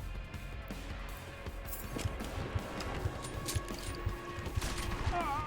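Pistol fire in Deus Ex: Mankind Divided sounds as a series of sharp, evenly spaced shots that grow more frequent toward the end, with mechanical clatter underneath, fairly faint overall.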